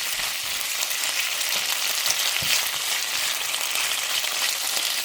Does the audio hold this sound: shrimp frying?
yes